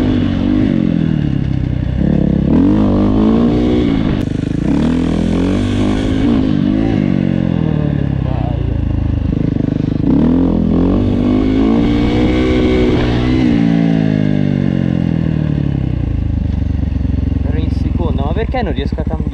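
A KTM 450 dirt bike engine revs up and drops back repeatedly through fumbled gear changes, close and loud, its pitch sweeping up and down over about twenty seconds.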